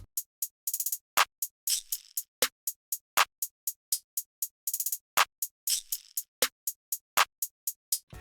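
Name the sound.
drum beat with shaker and snare added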